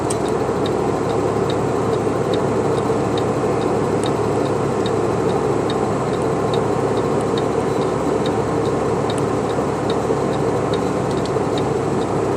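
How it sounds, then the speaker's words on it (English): A truck's engine brake on a US 30 mountain climb in Pennsylvania gives a steady, loud rumbling drone from a low gear, with a regular ticking pulse running through it for the whole stretch and no talk. "I can shift my engine brake into a low speed"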